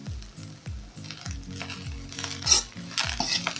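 Onions frying in a little oil while a utensil stirs them in the pan for an omena dish, gentle sizzling under repeated rhythmic scraping strokes and occasional clinks, close and fairly quiet.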